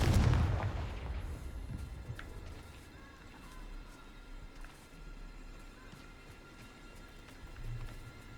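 A Confringo blast spell from the Hogwarts Legacy video game erupts loudly at the start with a booming low burst, then fades into a quieter rumbling game ambience with scattered clicks and a smaller swell near the end.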